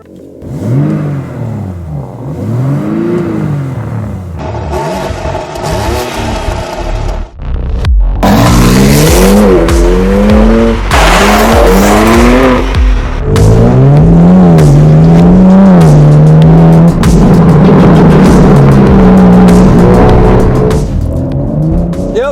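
A 2022 BMW M4 revving hard and accelerating, its engine note climbing and falling through repeated gear changes with loud, close roaring and some tire noise, continuous for over twenty seconds.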